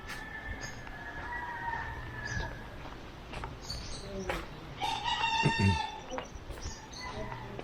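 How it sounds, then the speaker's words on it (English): Bird calls outdoors in stormy weather, repeated squawking cries with a rooster-like crow amid rustling background noise, under faint talk. "I can hear something. Oh man, there's a parrot."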